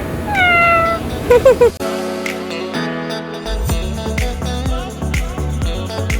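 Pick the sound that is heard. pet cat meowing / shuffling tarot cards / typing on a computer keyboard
pet cat meowing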